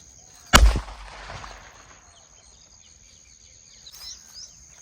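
A single loud bang from a large traditional firecracker right at the start, followed by a fading echo and quiet outdoor ambience with faint insect chirps.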